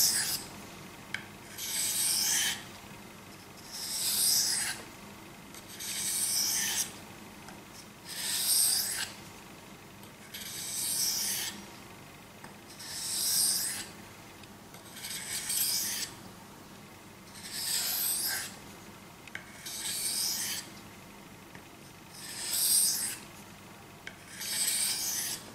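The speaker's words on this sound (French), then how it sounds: "Là, je laisse vraiment glisser la lame, juste le poids de la lame sur la pierre." A KA-BAR KA4065 Dozier knife blade glides lightly across a Japanese water stone in about ten slow, even rasping strokes, each a soft swelling scrape with short pauses between, close and alone without talk.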